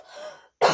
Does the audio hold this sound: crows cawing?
no